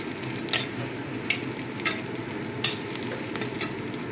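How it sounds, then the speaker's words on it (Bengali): Coconut pieces fry in hot oil with cashews and raisins, a steady close-up sizzle broken by a few sharp clinks of stirring, with no talking. "নারকেলগুলো ভাজা চলছে"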